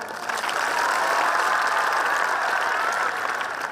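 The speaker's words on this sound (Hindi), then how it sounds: "एक बार काका की खातिर ताली मिलाओ भाई" A large crowd at a JEE success celebration claps together in dense, continuous applause, loud and steady throughout with no voices on top.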